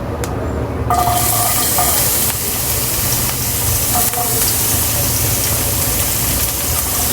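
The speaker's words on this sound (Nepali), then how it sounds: "हेर्नुस्, म ताउ रेडी गरेर त्यसमा तेल पनि हालिसकेको छु। र म यसमा प्याज हाल्छु अब।" Onion drops into hot oil in a wok and erupts into a loud, sustained sizzle and hiss that continues steadily, with no voices.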